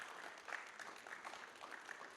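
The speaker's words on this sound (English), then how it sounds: "So a round of applause for the staff here" An audience at a Marines' Memorial Association lecture event gives the staff a round of applause, a soft, distant patter of many hands clapping steadily throughout.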